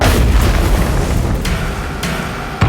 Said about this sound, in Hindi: मे धमाका कर देती है